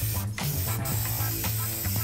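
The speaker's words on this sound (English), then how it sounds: "Spray on water, ready?" Aerosol spray hisses in short repeated bursts while water is sprayed during hydro dipping of a custom bee hive, close and loud, with a low hum underneath.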